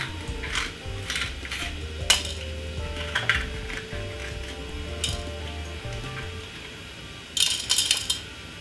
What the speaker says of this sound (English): let's get a smaller knife. Very small knife like this one, and clean out the inside of the pepper.